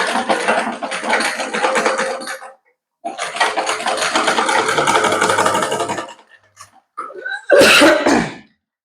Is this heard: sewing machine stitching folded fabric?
yes